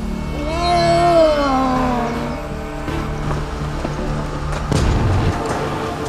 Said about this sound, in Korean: 고양이는 속속 포획망에 걸려들었다.